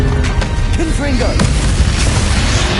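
A Confringo explosive spell blast in Hogwarts Legacy, a loud booming burst with a rumbling tail that fills the mix, layered over game music and effects.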